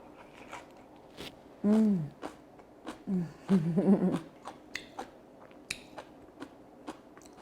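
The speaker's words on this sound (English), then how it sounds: "It's crunchy still, but it's so watery as you take bites in your mouth." Crisp crunching bites of six-week-old fermented kimchi, crunchy yet watery, with a few short wet crackles, broken by brief voiced murmurs while chewing, close to the mic.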